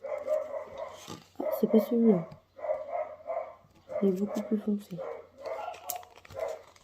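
Someone talks while her dogs bark in short bursts in the background, the yaps rising between her phrases.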